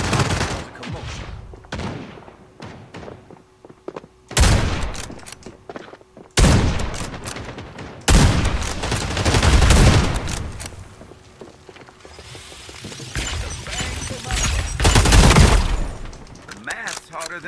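FragPunk shooter gameplay with loud bursts of gunfire, several sharp volleys and rapid automatic fire in clusters separated by brief quieter gaps, plus glass-like crashes and a voice talking over the action.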